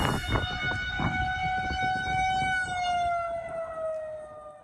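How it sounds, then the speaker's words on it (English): A tornado warning siren in mid-Michigan wails steadily and loudly, its sustained rising and falling tone holding for the whole stretch with no other sounds on top. "some of us actually heard this siren not too long ago when a tornado hit us here in mid-Michigan"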